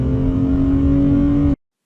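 Ford Barra engine with a shift kit fitted, revving hard through an automatic gear change, a loud steady drone with strong harmonics that cuts off abruptly after about a second and a half.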